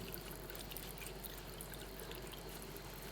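Tap water runs steadily as hands are rinsed under a faucet during surgical handwashing, a soft continuous pouring and trickling stream heard alone and fairly quiet throughout.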